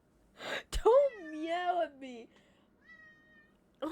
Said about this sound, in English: Don't meow at me.